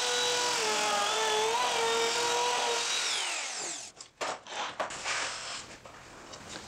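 A power tool whines loudly and steadily as it cuts a rabbet in a wooden panel guided by a stopped dado jig, then winds down and stops, followed by scattered clatter and handling knocks.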